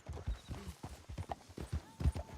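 Horse hooves clip-clopping at a steady gallop in the video game Red Dead Redemption 2, a close, rhythmic run of hoof beats with a faint background tone and no talking.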